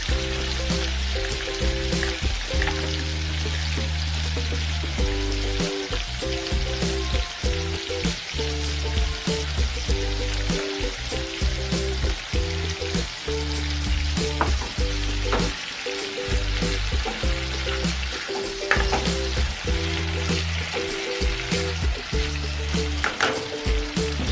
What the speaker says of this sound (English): in the middle of the pan, put in your 2 tablespoons of oyster sauce